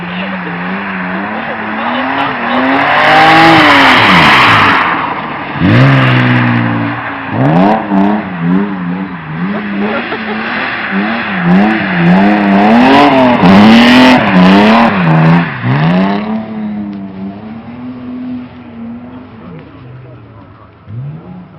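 Rally cars speed past with loud revving engines, rising and falling pitch, and bursts of tire squeal and skidding, while people talk nearby throughout.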